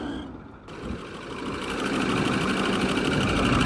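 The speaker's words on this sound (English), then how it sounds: "that might just be an exhaust leak. There's a stud missing right there, and as soon as you rev it, because it still makes boost" Ford Powerstroke diesel engine with an exhaust leak from a missing stud, revving up from idle into a steady, loud, rough drone that builds and holds for several seconds.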